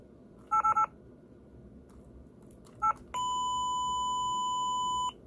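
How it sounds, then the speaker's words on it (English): A 2012 Furby Boom toy in test mode gives a quick triple beep, a single short beep, then one sustained tone about two seconds long, clear against a quiet room hiss. "All he does is just beep and then stop talking"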